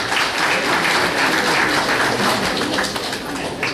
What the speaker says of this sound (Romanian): Haideți să-l aplaudă.